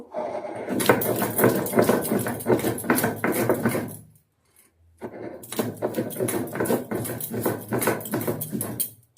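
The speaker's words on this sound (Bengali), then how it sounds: "রসুনটা আর কাঁচা লঙ্কাটা আগে বেটে নিচ্ছি" Green chillies and garlic are crushed on a flat grinding stone, making loud, dense, rhythmic scraping and grinding strokes close by, with a brief pause midway before the strokes resume. No one speaks.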